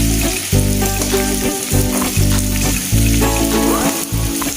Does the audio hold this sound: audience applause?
no